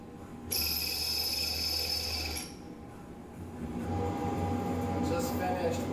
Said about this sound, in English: And now I'm drilling.